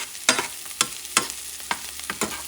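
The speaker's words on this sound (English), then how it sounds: "you don't want the garlic to burn, so you're going to mix this up for a few seconds" Minced garlic frying in a pan for Puerto Rican arroz con carne molida, a soft sizzle with five or six sharp scraping stirs spaced through the moment, close and clear with no talk.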